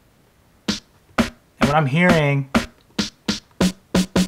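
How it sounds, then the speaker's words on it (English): Snare drum samples are triggered one after another on drum machine pads, a series of sharp, punchy hits at a steady pace, with someone briefly speaking between them. "So here's my snares. So I'm gonna listen to them right now."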